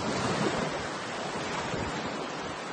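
Surf washing onto the beach at Calpe, Spain, with a steady broadband roar of breaking waves and some wind across the microphone, continuous and fairly close, no voices.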